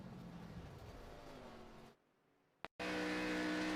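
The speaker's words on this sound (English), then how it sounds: "Listen to the throttle of this 25 car." ARCA Series number 25 race car at full throttle, a steady engine roar that abruptly cuts to near silence, followed by a sharp click and the engine drone returning loud and sustained.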